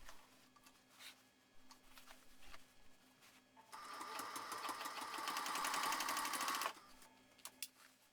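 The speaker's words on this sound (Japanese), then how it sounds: "側面の表布と底表布を合わせて縫い進めます" A sewing machine stitches the side outer fabric to the bottom panel of a 2-way tote bag, running steadily for about three seconds in the middle, with quieter handling and clicks before and after.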